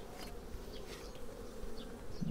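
Carnica honeybees buzz steadily around an opened hive during a hive inspection, a dense continuous hum with individual bees passing close by, no talking.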